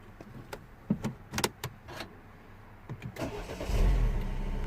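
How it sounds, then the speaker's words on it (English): A few clicks and clunks, then a Mini One R56 car engine cranks and catches, settling into a low steady idle nearby. "now let's gonna try to start the car"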